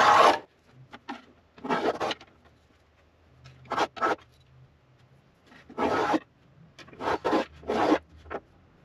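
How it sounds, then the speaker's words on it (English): A small thumb plane trims black-and-white guitar binding against a bench edge, giving repeated short rasping strokes in uneven bursts of two or three, close and fairly quiet with pauses between. "trim this down just with a nice little thumb plane here, and I can just hold it at the edge of the bench like that"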